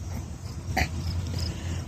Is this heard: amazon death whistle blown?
no